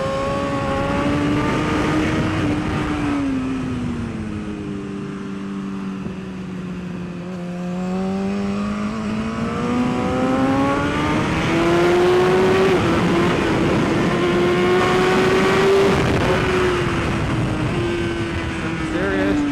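Vehicles on a race track make a continuous droning engine roar that swells and sinks in pitch as they pass, with talk faintly beneath it.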